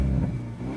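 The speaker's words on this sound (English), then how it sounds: "the moment you start up the Veloster N, it kind of tells you that this is a special car because of that exhaust noise" A Hyundai Veloster N exhaust growls loudly at startup, a short deep burble that swells and settles into a throaty idle.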